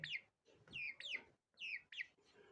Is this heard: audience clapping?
no